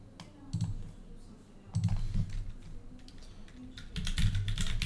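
A computer mouse clicks in short bursts, a few crisp, close taps spaced a second or two apart against a quiet room.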